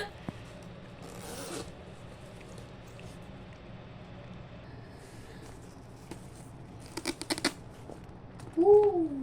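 A zipper on a new school bag slides open in a few short bursts, near and fairly quiet, with handling rustle around it and a brief voice-like tone near the end.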